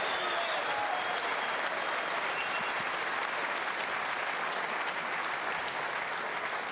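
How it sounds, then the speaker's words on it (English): A snooker crowd at the 2016 World Championship final breaks into loud, sustained applause and cheering, a dense wash of clapping that stays full and even throughout. "that's the biggest cheer of the night"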